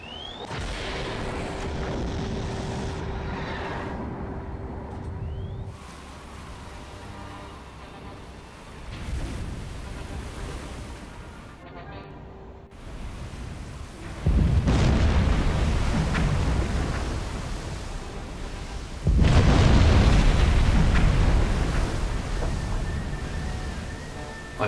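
In the Silent Hunter 4 submarine game, torpedoes fired from four stern tubes hit a heavy cruiser. Two deep, rumbling explosions boom some seconds apart over a low background drone.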